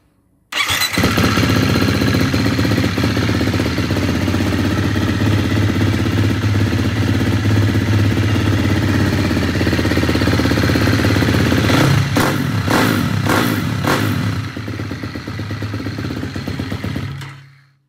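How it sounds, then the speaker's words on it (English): A Husqvarna FC350 motorcycle engine cranks and fires, then settles into a loud, steady idle close by with a few sharp clattering blips partway through, before it cuts off at the end. "I'll just fire the bike up."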